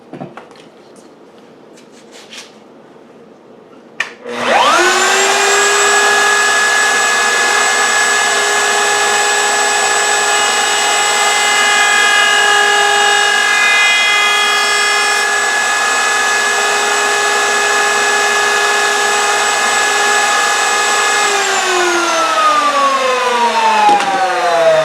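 A router with a router bit, guided by a template, cuts a guitar neck with a scarf joint. After a few quiet seconds it spins up to a loud, steady high-pitched whine, holds for about eighteen seconds, then winds down.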